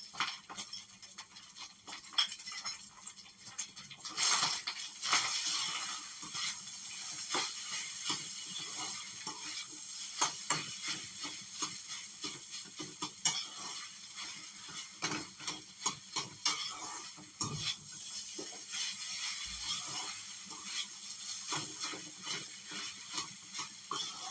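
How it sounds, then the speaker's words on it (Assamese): Food sizzles in a hot pan while it is stirred, with irregular scraping and clattering over a constant frying hiss. "প্ৰায় 3 মিনিটমান ভাজিব লাগিব।"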